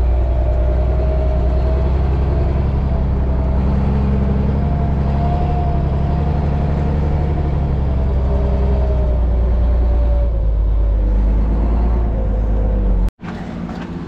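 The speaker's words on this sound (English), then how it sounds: "Truck headed out." A farm truck hauling hay bales drives off, a loud low engine rumble that holds steady and close for most of the time, then cuts out sharply near the end as a quieter rumble continues.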